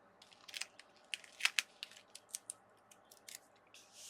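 Bits of tape are torn off for paper card crafting, giving a series of sharp, close rips and crackles in quick irregular bursts, fairly quiet with no talking.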